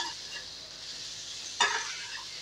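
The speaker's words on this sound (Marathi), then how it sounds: "या फक्त आता परतून घ्यायचं आहे" Arbi (taro root) sautéing in a pan gives a steady soft sizzle throughout, with a sharp scraping stir of the spatula near the middle; no voices.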